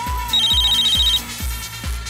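An old-style telephone bell rings in repeated rapid trills, loud and close, with no voices over it.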